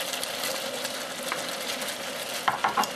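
Prawns, tomatoes and vermicelli noodles fry in a pan with a steady, loud sizzle as they are stirred, with a few clinking utensil scrapes near the end and no voices.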